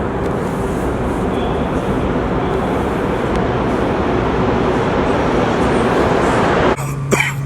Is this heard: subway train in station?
yes